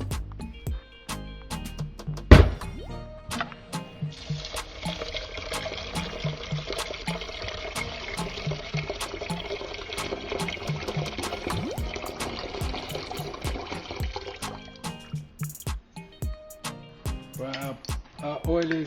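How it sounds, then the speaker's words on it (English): Water runs and splashes steadily while rice is swished and rattled in a bowl under running water, with a sharp clunk early on. "this is how our rice is looking. Right, we're just gonna wash this off now."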